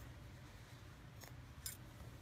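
Scissors snip knitting yarn at a blanket corner, two quiet, brief cuts in an otherwise still room.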